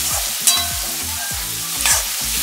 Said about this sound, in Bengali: আর একটু টক দই অ্যাড করে ভালো করে কষিয়ে নেব।